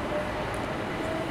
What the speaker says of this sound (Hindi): फुल लोकल ट्रेन जैसा साउंड आ रहा है इसका तो